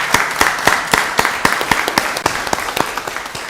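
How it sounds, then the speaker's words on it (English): A county board meeting audience claps in a brisk, steady round of applause, many hands close together, lasting a few seconds. "Let's give them another round of applause."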